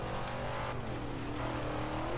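Rally car engine in the Forza Horizon 3 video game, a steady moderate drone holding an even pitch with slight rises, heard alone at fairly low level.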